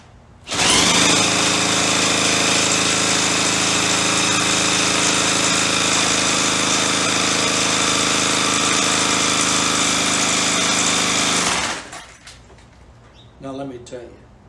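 Husqvarna Rancher 455 chainsaw engine spun over fast by an electric drill without firing, a loud steady whirring drone lasting about eleven seconds before cutting off abruptly.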